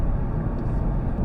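Steady low road roar inside a 2024 Hyundai i30 Sedan Premium riding on 17-inch wheels, a continuous broadband rumble with no music playing and no voices.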